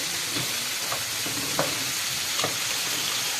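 Pieces of KFC-style fried chicken sizzle steadily in a pan of oil over low heat, with a constant close frying hiss broken by a few soft pops and crackles, no talking.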